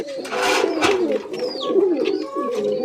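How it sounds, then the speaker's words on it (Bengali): A pigeon on a small hobby farm coos in low, rolling phrases that repeat through the clip, fairly close and clear, with a few higher bird chirps and faint background voices mixed in. "আর এইখানে একটা কবুতর আছে"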